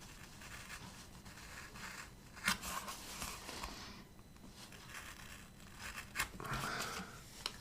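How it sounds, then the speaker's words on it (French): Quiet, close crunching and snipping as scissors cut a piece out of Tetrapak carton, in irregular bursts with a few sharper cuts, and no talking. "Je vais découper la partie qui est à découper."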